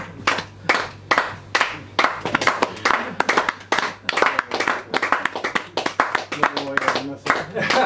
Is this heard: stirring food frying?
no